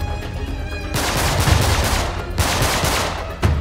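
Rapid automatic gunfire from the video game Uncharted 3: Drake's Deception Remastered, set in the Rub' al Khali desert: loud, dense bursts that start abruptly, pause briefly, then resume, with a final sharp crack.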